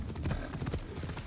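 Horse hooves clip-clop at a steady trot in the Assassin's Creed Shadows video game, with repeated even hoofbeats sounding close and moderately loud for about a second, with no talk over them.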